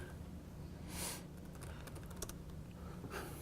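Someone types on a computer keyboard, a quick, close run of light key clicks with a brief breathy sniff near the start.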